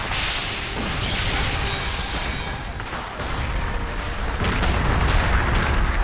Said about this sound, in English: explosion in this game are a little over the top, which is something I really like